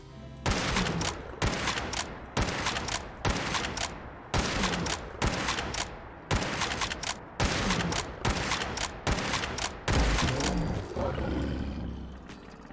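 A makeshift lever-action rifle chambered in .45-70 with an advanced receiver fires in Fallout 4: a dozen loud, booming shots in a steady cadence about a second apart, each with a short echoing tail and a longer ring-out after the last.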